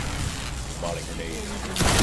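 A grenade in the Destiny video game bursts into a sudden loud boom near the end, after a dense rumble of gunfire and battle noise.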